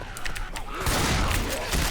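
Gunfire at an explosive barrel in Left 4 Dead 2: a few sharp shots, then a loud, sustained roaring blast that fills the sound and holds to the end.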